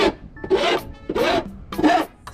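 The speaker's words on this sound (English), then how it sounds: "we're just going to file the edges" A hand file rasps along the rough cut metal edges of a roof opening in a Ford Transit van for a MaxxAir fan, heard as three distinct scraping strokes with brief pauses between them, close and clear.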